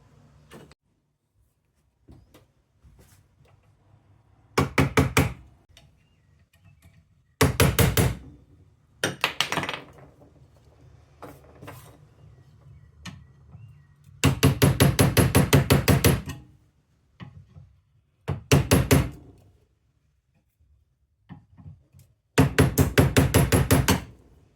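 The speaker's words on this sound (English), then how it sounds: "the first step to open up the valve is to cut away the 4 rivets with a chisel" A chisel is hammered to cut four rivets off a Bosch L-Jetronic auxiliary air valve. Loud bursts of rapid metallic strikes repeat in several clusters, with quieter scraping and handling between them and no talking.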